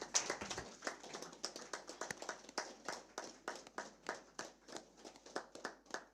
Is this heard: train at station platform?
no